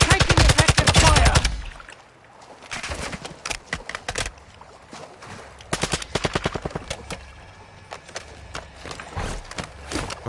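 Loud bursts of automatic gunfire and scattered single shots ring out in a Call of Duty DMZ firefight, an intense volley at the start giving way to repeated sharp bursts and echoing reports over roughly ten seconds.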